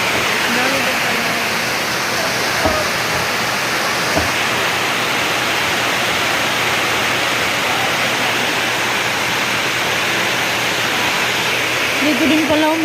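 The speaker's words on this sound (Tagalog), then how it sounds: "malakas din pala yung tulo, oh. Dami naman tubig." Water from a strong leak pours into a basin or bucket, making a continuous rushing, splashing hiss that stays steady and fairly loud throughout, with a couple of brief knocks.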